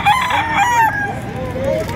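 A one-year-old White Choco bloodline rooster crows loudly and close, one long rising-and-falling call over a noisy background at a rooster fair in Padre Garcia.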